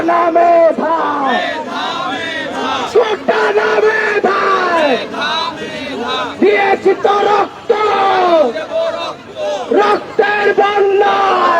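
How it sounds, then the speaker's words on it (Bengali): A large crowd of students chants slogans demanding the abolition of quotas, loud rhythmic shouted call-and-response voices close by at Shaheed Minar, rising and falling in waves. "সেই কোটা বাতিলের স্লোগানটি কিন্তু শুরু হয়েছে"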